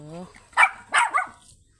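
A golden retriever puppy lets out three short, close barks in quick succession, just after a person speaks briefly.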